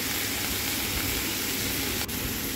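Prawns fry with onions in a pan, giving a soft, steady sizzle that hisses evenly throughout at moderate volume, with no speech.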